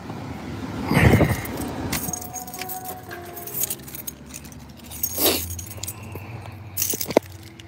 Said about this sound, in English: Let me cut my car off